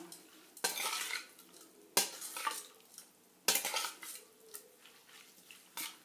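Utensils clink and scrape against a bowl while seasoning is mixed into a Thai tripe salad (koi pha khi riu), with several sharp stirring knocks and scrapes close by and no talk.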